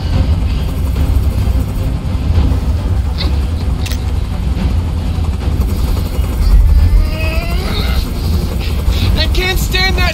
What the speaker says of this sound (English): Tell that helicopter to get out of here.